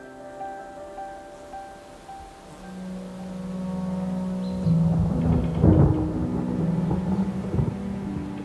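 Thunder rolls and rumbles through a summer storm high in the mountains, building from a low distant grumble to a louder, deeper peak and then lingering as a steady roar.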